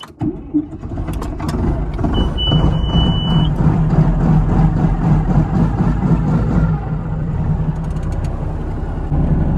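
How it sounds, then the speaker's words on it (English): A farm tractor engine idles and runs steadily in cold 40-degree weather, a loud continuous mechanical rumble close by with some irregular knocking at the start. "this tractor does not like 40-degree weather"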